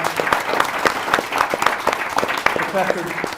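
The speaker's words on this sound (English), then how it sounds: "let's give a round of applause to our panel" An audience applauds a tech-talent panel at an HBCU town hall event, a dense, steady spatter of many hands clapping close by, with voices mixed in toward the end.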